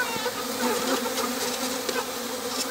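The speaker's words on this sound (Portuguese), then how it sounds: "Se liga, galera, na quantidade de abelha que tem voltando esse enxame aqui, ó." Dense buzzing of many Melipona flava lineata stingless bees at a strong hive as a returning swarm crowds in during a winter colony split, a steady close-up drone with no voices.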